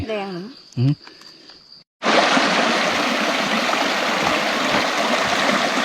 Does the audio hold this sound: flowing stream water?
yes